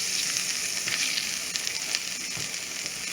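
Chorizo and butter sizzling in a hot pan: a loud, continuous, crackling fry with bright spitting pops and no voices over it.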